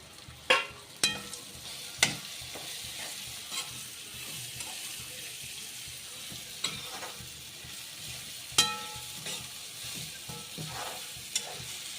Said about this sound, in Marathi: बघा आता कोळंब्या टाकते आहे